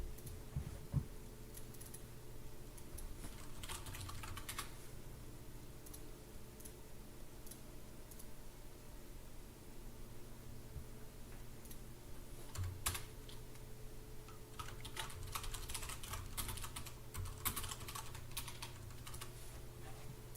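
Steady keyboard typing on a computer during a coding session, a run of quick clustered keystrokes with brief pauses, fairly close and alone with no talking, over a low constant background hum.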